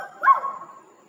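A person imitates a dog barking with a single short, muffled woof, close but fairly soft, followed by a brief fading tail.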